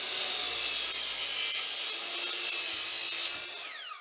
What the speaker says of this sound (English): that'll be 3/4 inch plywood that I'm cutting on my miter saw here